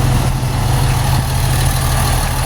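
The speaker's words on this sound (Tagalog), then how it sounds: "Crunchy ng makina pare." A vehicle engine idles on a highway stop in Cabanatuan, a steady low rumble that holds close and even throughout with no talking.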